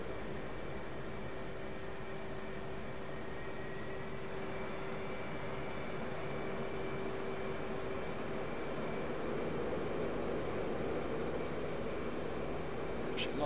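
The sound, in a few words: F/A-18C Hornet jet engine powering back in video game DCS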